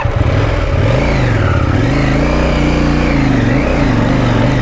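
A Yamaha Ténéré motorcycle engine revs continuously and loudly up close, pitch rising and falling in several swells over a steady rumbling drone, on a trail water crossing.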